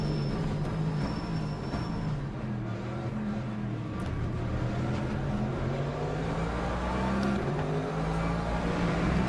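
Race car engine in Le Mans Ultimate at Sebring, a steady loud drone with rising and falling pitch as the car accelerates and shifts, running continuously throughout with no talk.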